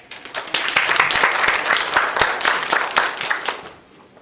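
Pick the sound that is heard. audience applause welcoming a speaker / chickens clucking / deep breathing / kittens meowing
audience applause welcoming a speaker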